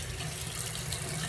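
Water runs steadily from a bathroom tap into a sink during shaving without shaving cream, a constant close hiss and splash with no pauses or talk.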